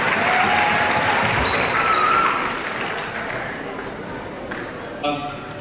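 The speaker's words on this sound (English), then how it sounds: "give yourselves a round of applause" Parents at a middle school spring band concert clap loudly and steadily for about five seconds, then the applause thins and fades, with a few scattered claps and faint crowd murmur near the end.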